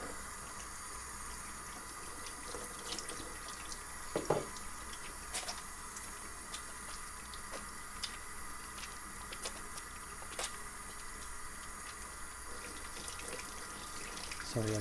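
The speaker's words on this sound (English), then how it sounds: "I want to wash my hands." Hands are washed under a steady stream from a kitchen sink tap while a pork stew is being cooked. The running water is close and constant for the whole stretch, with occasional splashes and knocks in the basin and no speech.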